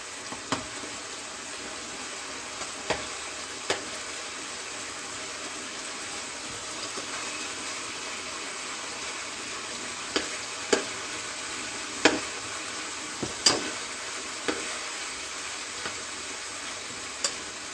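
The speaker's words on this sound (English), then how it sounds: "You can see it's frying and coming out nice on its own" A soft, steady sizzle of eggplant frying in hot oil runs throughout, with occasional light clicks and taps of utensils against the pan.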